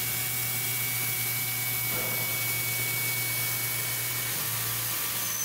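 Tormach CNC mill cutting with a 3/16-inch end mill, a steady broadband machining hiss over a constant low motor hum, running evenly throughout with no talk.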